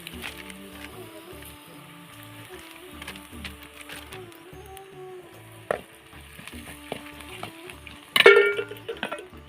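Vegetables with masala sauté in a pan over a wood-fired stove, giving a steady soft sizzle with occasional stirring scrapes and a sharp clatter near the end, close and moderately quiet.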